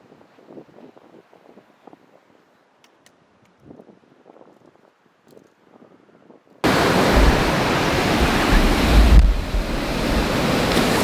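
River rapids at a waterfall in Helsinki roar loud and close as a dense, continuous rushing wash after a quiet start of faint rustling and small knocks.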